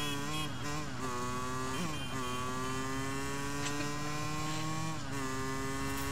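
Motorbike engine in a video game, a steady droning whine with rising and falling revs and a few sharp pitch swoops, loud and continuous throughout.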